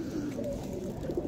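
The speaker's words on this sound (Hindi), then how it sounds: "देख लें काफ़ी कबूतर हो गए हैं अपने पास," Pigeons coo in a continuous low, throaty murmur from a flock kept close by, several birds overlapping steadily with no pauses and no talking.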